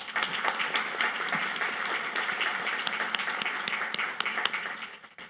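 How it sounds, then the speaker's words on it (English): An audience at the Women's Heart Symposium claps for the event volunteers, a steady, fairly faint wash of many hands with sharp individual claps poking through before it tapers off at the end. "please give a round of applause for our amazing volunteers"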